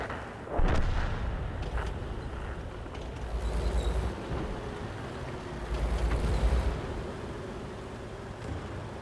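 Artillery fire in World of Tanks: a heavy booming shot followed by rumbling, with two more deep, drawn-out rumbles of distant impacts under a steady engine-like drone, no talk.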